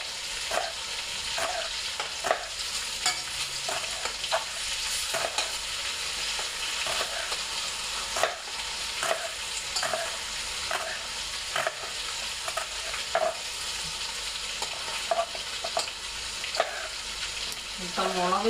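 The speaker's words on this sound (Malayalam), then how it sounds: "ചിക്കൻ കാണുന്നല്ലേ, ഒന്ന് കുറച്ചൊന്ന് വറുത്ത്" Chicken fries in a pan with a steady sizzle while a utensil scrapes and stirs it, sharp irregular clacks recurring throughout at moderate volume, with no talking.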